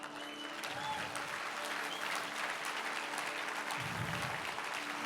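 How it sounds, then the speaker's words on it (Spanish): A church congregation applauding God during a sermon by Pastor Carlos Lemus, a sustained, even wash of clapping heard at a moderate distance with a faint voice beneath it. "hoy yo le voy a dar razones para que usted le dé el mejor aplauso a Dios"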